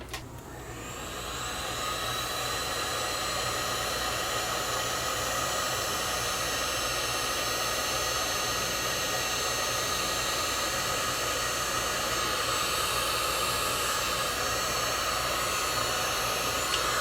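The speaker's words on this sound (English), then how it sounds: "Get the old heat gun." A heat gun shrinking heat-shrink tubing over wiring blows a loud, steady broadband whoosh with a faint motor whine, starting up at the beginning and holding constant throughout with no talk.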